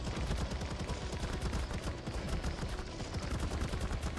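Rapid gunfire crackles in bursts while shooting at a Fenrir in ARK Survival Evolved, dense repeated shots running almost without pause across the whole stretch.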